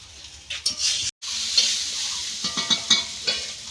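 Carrots frying in a home kitchen pan make a steady sizzling hiss with a few scraping stirs, close and fairly loud, broken by a brief gap near the start.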